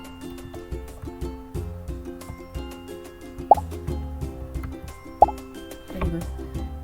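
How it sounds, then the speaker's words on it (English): A Scratch 3.0 ball catcher game plays its short pop effect as sharp plops, with a couple standing out clearly over a busy looping melodic game track. "This pop sound is coming when it touches the ball."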